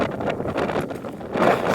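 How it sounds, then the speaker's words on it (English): Strong wind buffets the microphone on an exposed hillside walk, a steady broadband roar that surges louder near the end, with no voices heard. "It's a windy one, it's not too cold."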